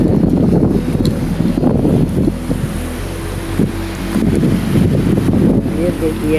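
Strong wind buffets the microphone at the seashore, loud gusting roars that rise and fall, with waves faintly behind and a few voices talking under the wind.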